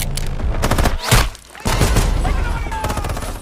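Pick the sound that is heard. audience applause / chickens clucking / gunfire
gunfire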